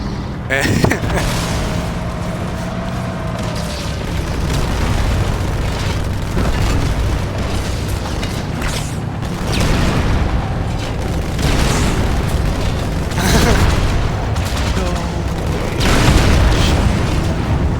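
Heavy tank cannon blasts in Halo boom repeatedly amid rumbling engine noise and machine-gun fire, loud and close, with voices talking over the battle.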